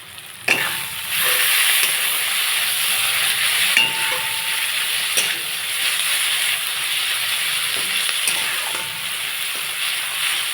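Koi fish curry frying in a pan with ginger and slit green chilies, a steady loud sizzle and hiss running throughout with occasional stirring clinks, no voices.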